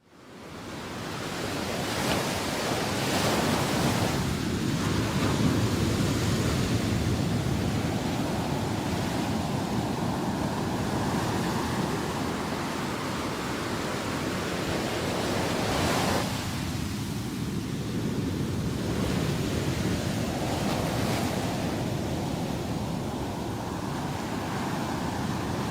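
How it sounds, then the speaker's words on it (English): Loud ocean waves at Ouidah, Benin, captured from within the sea itself: a continuous heavy roar of surf and churning water, with surges breaking around four and sixteen seconds and a constant close wash. "I basically walked into the sea and waited for the loudest, most horrific sounding waves to come"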